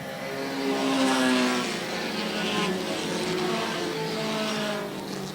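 Several race cars roar around an oval track three wide off the corner, their engines droning and rising in pitch as they pass, loud and sustained with a steady layered whine.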